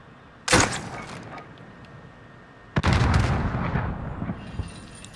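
Two loud, sharp launcher shots fire a spawn tube in Modern Warfare on an oil rig or harbor map, each blast followed by a rumbling tail, the second longer and heavier.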